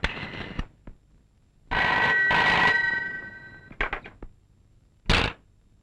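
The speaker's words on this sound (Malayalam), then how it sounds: "ഒന്ന് ഫോൺ ചെയ്തോട്ടെ" A telephone rings for an incoming call in a local setting: a loud bell-like ring burst lasting about a second amid clicks and handling knocks, then short clattering sounds and a final sharp burst.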